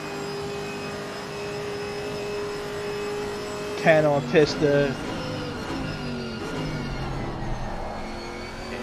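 A Chevrolet Camaro race car in Assetto Corsa Competizione at Bathurst, a steady engine drone running under commentary with a brief rising rev surge midway before settling back into a continuous hum.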